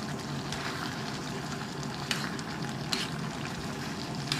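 Beef stir fry with marinade sauce sizzling steadily in a hot pan, a continuous close frying hiss with occasional small pops and stirring scrapes, no voices.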